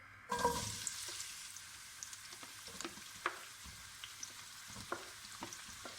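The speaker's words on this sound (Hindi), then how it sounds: "सबसे पहले तेल में प्याज शामिल कर दें" Onions are added to hot oil for a turnip curry; a quiet, steady frying sizzle starts with a soft burst, then continues with occasional light clicks and scrapes in the pan.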